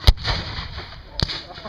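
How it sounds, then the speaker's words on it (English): Cannon fire at an outdoor Civil War reenactment: two loud, sharp booms about a second apart, each with a brief rumbling tail. "the Confederates are able to fire smoke rings from their cannon"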